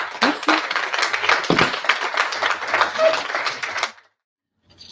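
An audience claps at a French morning seminar on third places as learning spaces, dense close applause with distinct individual claps that thins out and stops abruptly before a short silence at the end.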